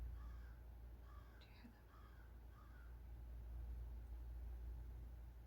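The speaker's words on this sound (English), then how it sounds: "Can you hear the crows?" Several crows caw a few times in the distance over a steady low rumble of background noise.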